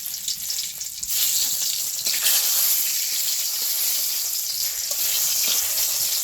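A dried chili, a little cumin and a bay leaf crackle in hot oil for an Ekadashi sago khichuri, a loud, dense, continuous sizzle heard up close with no talk.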